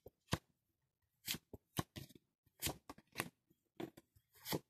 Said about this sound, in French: J'étale les cartes et je vais en tirer 5.